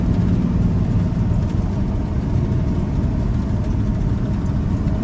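Low-horsepower V8 engine in a Chevy square body truck running steadily, a loud continuous low rumble with no talk over it.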